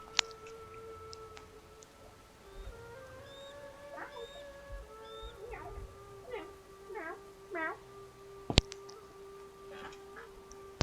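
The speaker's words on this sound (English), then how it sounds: "The cat is back." A house cat meows several times at moderate distance over a quiet ambient bed, a run of short rising calls clustered in the middle, with a sharp click or knock near the end.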